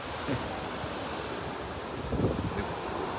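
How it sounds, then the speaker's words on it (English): Big ocean waves surge and break on a Cape Cod beach under heaving Atlantic storm swell, a continuous loud wash of surf with wind noise and swelling crashes near the start and again past the midpoint. "the wave's pretty big"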